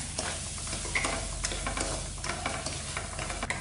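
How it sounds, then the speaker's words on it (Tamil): Semolina dry-roasting in a pan for mango kesari, soft steady hiss with rhythmic scraping and light ticks of a spatula stirring close by. "நல்லா வாசம் வர அளவுக்கு வறுத்து எடுத்துக்கோங்க."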